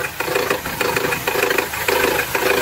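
A car engine runs with its cover removed, making a steady close hissing drone with a repeating, roughly half-second pulsing gurgle over a low rumble.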